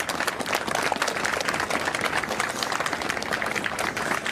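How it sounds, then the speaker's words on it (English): Scattered clapping from a crowd gathered outdoors near the U.S. Capitol, a steady wash of many hands with occasional louder claps, continuous and moderately distant. "You can hear folks clapping now."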